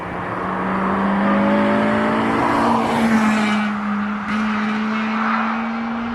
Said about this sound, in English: when I'm really caning it, it was loud and very raspy